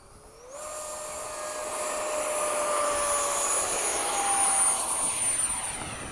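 A 70mm FMS F/A-18 and a 70mm Eflite F-16 model jet fly in formation at PCC, their high whine starting abruptly and then rising and shifting in pitch as they pass, loud and steady.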